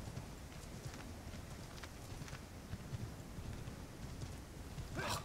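Horse hooves clip-clopping in Assassin's Creed 3, The Tyranny of King Washington, a steady running gait under a dense game soundscape, continuous and fairly loud for the whole stretch.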